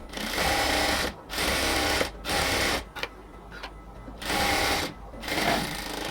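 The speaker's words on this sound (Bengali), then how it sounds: "এখানে ডাবল সেলাই দিয়ে দিতে হবে।" A sewing machine double-stitches a seam on a cotton salwar in close, loud bursts of rapid whirring, each lasting about a second and broken by short pauses.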